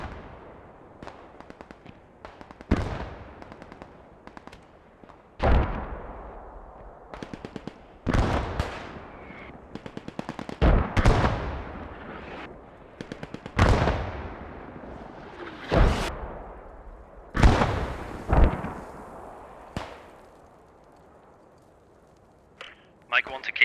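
Video-game artillery rounds fire in a string of loud, sharp blasts spaced a few seconds apart, each trailing off in a long echoing decay, with radio-style voices talking between the shots.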